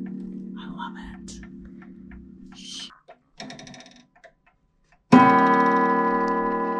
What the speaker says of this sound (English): Ooh, the chime. Oh, I love it.